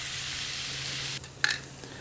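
Corned beef hash fries in a cast iron skillet with a steady, close sizzling hiss that drops away partway through, followed by a brief faint clink.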